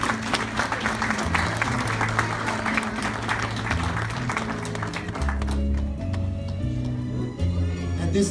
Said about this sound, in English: let's give a big round of applause for the quinceañera